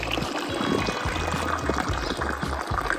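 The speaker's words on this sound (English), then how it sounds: "It's always good filling up with fresh mountain water." Fresh mountain water from a village fountain pours into a bottle, a continuous gurgling splash that fills steadily, close and fairly loud.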